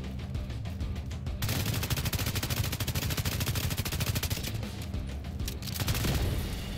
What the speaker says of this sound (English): It's a gunfight.